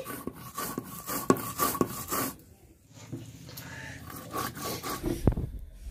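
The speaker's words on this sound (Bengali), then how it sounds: "জিরাটা বেটে নেব।" Cumin seeds are ground by hand on a grinding stone, giving a close, rhythmic rasping and scraping with repeated strokes, a brief pause midway, then more rubbing.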